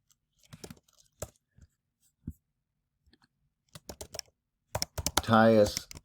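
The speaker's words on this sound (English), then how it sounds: "I can type here" Scattered clicks of computer keyboard typing come in short bursts separated by quiet gaps, growing denser toward the end, where a brief voiced sound overlaps the keystrokes.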